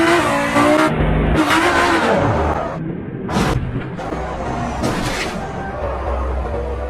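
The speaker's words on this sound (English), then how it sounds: "What are the odds of surviving extreme overtaking in one of these Lamborghinis?" In BeamNG.drive, a Lamborghini's engine revs hard and loud amid tire squeal and skidding, with bursts of acceleration and racing-game vehicle noise throughout.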